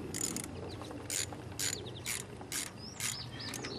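A ratchet wrench tightens an ignition coil bolt on a 2008 Toyota Corolla, giving five short, crisp clicking bursts at a steady rhythm, close by.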